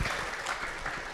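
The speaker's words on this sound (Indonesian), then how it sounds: "Tepuk tangan dulu nih." Brief audience applause at an astronomy seminar, a short, fairly faint patter of clapping from a seated crowd.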